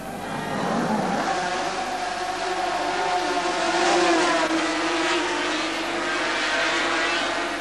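A pack of Suzuki 500cc Grand Prix racing motorcycles roars off the start at the 1978 German Grand Prix at the Nürburgring, a dense, sustained wall of high-revving two-stroke engine noise, loud and continuous.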